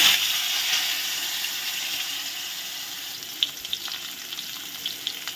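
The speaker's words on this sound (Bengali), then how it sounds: "কেটে রাখা আলুগুলো দিয়ে দিচ্ছি।" Cut potatoes dropped into hot oil left from frying fish, sizzling steadily and close up, with a few sharper pops and crackles toward the end.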